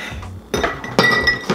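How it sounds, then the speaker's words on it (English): Large ice cubes clink against each other and into a glass mason jar while a smoothie is prepared, giving a few sharp, close glassy knocks in two or three quick bursts with no talking. "So I got my big ice cubes here."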